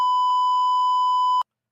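A censor bleep: one steady, loud electronic tone holding for about a second and a half, then cutting off abruptly into silence.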